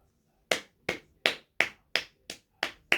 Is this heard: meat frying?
no